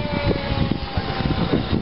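Foam-board (decopanel) radio-controlled model airplane in flight outdoors, a steady propeller and motor drone with fluctuating loudness throughout, mixed with wind and handling noise.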